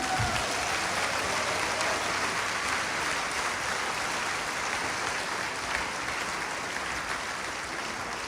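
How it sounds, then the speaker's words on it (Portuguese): Church congregation clapping during a sermon, a dense, steady wash of applause from many hands that holds evenly throughout, fairly loud and with no voices over it. "Dá uma salva de palmas para o Senhor, que agora Ele está merecendo."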